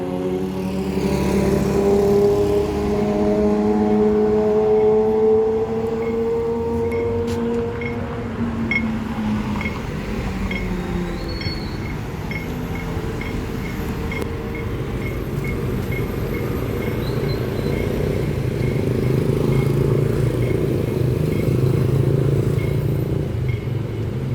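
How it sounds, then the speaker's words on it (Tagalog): A loud motorcycle engine on a Vientiane, Laos street rumbles steadily throughout, with a rising-then-falling pitch early on like it is pulling away, plus a faint high ticking tone. "Ang ingay ng motor niya."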